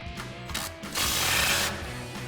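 A ratchet fitted with an 18mm socket works the bottom bolt of a coil-over on a 2005-2014 Mustang, giving close, crisp clicking in short bursts followed by a longer, continuous run of ratcheting.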